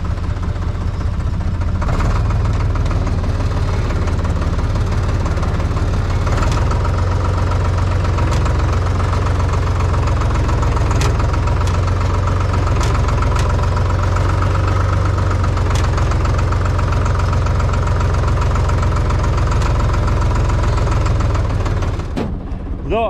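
An IHC 633 tractor engine runs steadily and loudly up close on a wet field, with a deep, knocking diesel idle that stays constant throughout and drops out briefly near the end.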